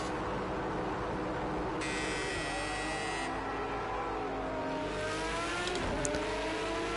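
A Ferrari V12 engine revs with a continuous loud, harmonically rich drone, its pitch sweeping up and down in surges toward the end.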